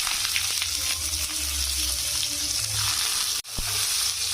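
Chopped onions hit hot oil in a pan already holding garlic and nigella seeds, giving a loud, bright, steady sizzle that briefly cuts out near the end before resuming.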